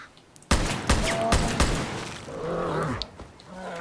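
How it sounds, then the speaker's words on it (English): Gunfire in the shooter game Far Cry: New Dawn: a heavy sniper-style rifle fires several sharp, loud shots in quick succession, followed by fainter game sounds and clatter. "This is like a heavy sniper rifle."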